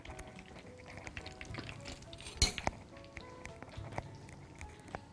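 A spoon clinks and scrapes against a bowl while dissolving five spoonfuls of starch for vanilla pudding, with light intermittent taps and one sharper knock partway through.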